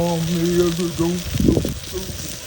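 Pompano fish fries crispy on a griddle, a close steady sizzle that flares briefly louder, heard under and after a short stretch of talking.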